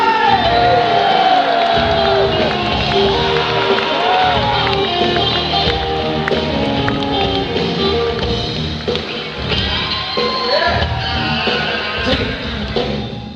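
Concert crowd cheering and whooping loudly for Brian May joining Black Sabbath on stage, a dense, sustained roar of many voices with shouts rising through it, close and continuous throughout.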